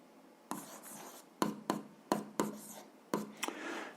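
Pen strokes across paper while an equation is written out, a series of short scratchy bursts with brief pauses between them, close and quiet, with no talking.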